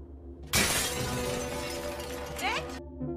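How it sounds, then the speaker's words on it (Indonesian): A house window's glass is smashed in a film scene: a sudden loud shattering burst, then a few seconds of spraying and tinkling shards with a second crashing surge near the end before it cuts off. "menghancurkan kaca jendela rumah tersebut"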